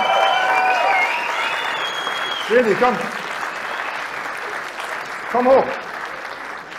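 Audience at a live comedy show in Cologne applauding steadily throughout, a dense, roomy wash of clapping and crowd noise, with a man calling out loudly over it twice.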